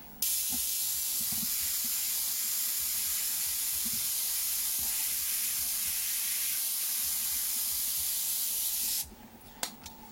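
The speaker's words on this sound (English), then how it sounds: "We're going to take black and we're just going to go and just put this fuzzy little spray back and forth" Black paint hisses from an airbrush in a steady, continuous spray for about nine seconds, then cuts off abruptly, followed by a few faint clicks and taps.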